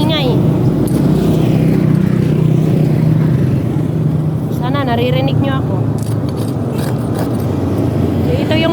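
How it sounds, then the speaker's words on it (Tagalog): Busy highway traffic in the Philippines: a constant low roar of passing vehicles fills the background, with a few higher whines from engines or horns, while someone talks close over it. "Nasa highway lang talaga ako. Kaya daming sasakyan. Maingay."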